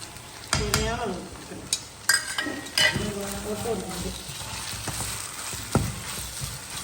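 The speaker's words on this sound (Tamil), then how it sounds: "வெங்காயம்லாம் வதங்கிருச்சு இப்போ பார்த்தீங்கன்னா நம்ம வீட்டு மிளகா பொடியும் மீன் பொரியல் பொடியும் மஞ்சள் பொடியும்" Chopped onions frying in a pan with chilli, fish-fry and turmeric powders, stirred with a utensil: a steady sizzle under scrapes and clinks against the pan, close up, with a voice talking over it.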